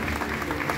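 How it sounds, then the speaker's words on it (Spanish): Clapping from an audience at a community recognition ceremony in Villa Santa Rosa, a short, dense burst of applause. "Y el aplauso, por supuesto, nuevamente para todos ellos"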